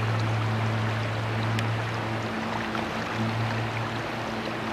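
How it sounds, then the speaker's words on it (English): Small creek running through a college campus in Brevard, a steady close rushing and gurgling of flowing water with a constant low hum underneath, no voices. "this is a beautiful little creek that runs all the way through the college."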